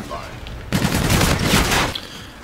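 Automatic weapon fire in the first-person shooter Call of Duty Infinite Warfare: a loud, dense burst of rapid shots lasting over a second, then quieter game ambience.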